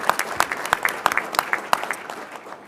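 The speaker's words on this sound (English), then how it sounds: "So how about a round of applause for that?" A small group claps at a board of trustees meeting, the individual hand claps sharp and distinct in an uneven patter that thins out toward the end.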